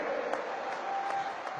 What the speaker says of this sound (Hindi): जोर से तालियों के साथ मेरी इस बात को स्वीकार कीजिए आप